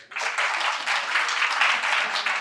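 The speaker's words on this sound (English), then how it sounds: "Give me a big applause." Audience applause at a life science quiz, a steady burst of many hands clapping that rises quickly and holds at moderate loudness for about two seconds.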